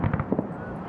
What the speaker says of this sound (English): You can't have the 4th of July without fireworks.